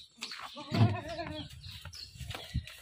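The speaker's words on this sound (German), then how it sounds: "Ich mach jetzt die Ziegen rein." Goats being herded into their pen on a farm in Hurghada, Egypt, with a near bleat and scattered farm-animal calls and shuffling around it, moderately loud, with no talking.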